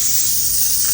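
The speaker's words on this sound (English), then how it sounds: "And I'm going to spray a little bit on top." Elmer's Craft Bond spray adhesive sprayed from a can onto a custom Barbie doll project, a steady close hiss lasting about a second with no pauses.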